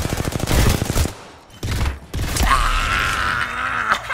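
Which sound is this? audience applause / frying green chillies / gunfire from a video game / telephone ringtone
gunfire from a video game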